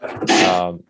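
A single sharp human sneeze, loud and close, lasting under a second during a casual conversation, preceded by a brief intake of breath.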